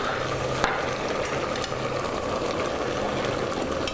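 Broccoli added to a hot pan and stirred, giving a steady crackling sizzle with one sharp clink near the start and faint scraping throughout.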